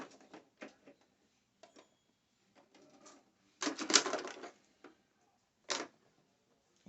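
A sewing machine stitches fabric for a two-piece dance outfit in short rattling bursts, with one longer run in the middle, close-up and separated by pauses of near silence.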